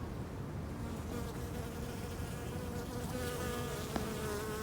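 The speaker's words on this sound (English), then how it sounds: "And a busy bee, thank you." Steady, close buzzing of bees hovering around flowers, continuous and unbroken with no talking.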